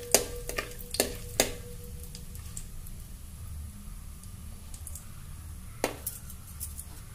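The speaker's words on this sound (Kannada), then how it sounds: "ಅವು ಮಸಾಲೆ ದಿನಸ ಎಲ್ಲ ಹಾಕತ್ತೀನಿ. ಸ್ವಲ್ಪ ಹುರ್ಕೋಬೇಕು." Masala spices frying in a pan for veg biryani, a soft continuous sizzle broken by a few sharp clinks of the stirring spoon against the pan.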